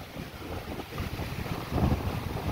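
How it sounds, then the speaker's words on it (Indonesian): Strong sea wind buffeting the microphone on the coast of Pulau Pisang Gadang near Padang, a dense continuous roar with a gust swelling toward the end, surf faintly mixed in. "Anginnya masih kencang banget,"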